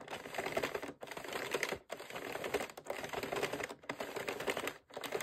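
A Sentro circular knitting machine being cranked through a row of yarn, producing a steady, moderately quiet clicking and rattling in repeated passes with brief pauses between them, with no talk.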